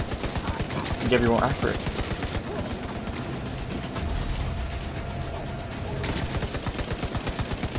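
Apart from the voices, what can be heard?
gunfire in the video game Division 2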